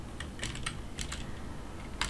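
Keys clack in short irregular bursts on a computer keyboard's numeric keypad while Alt codes are entered to produce symbols, a few crisp taps spread over two seconds against a quiet room.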